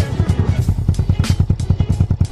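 Motorcycle exhaust with a silencer fitted still runs loud, a steady throbbing idle with rapid regular low pulses close by, and a faint voice in the background.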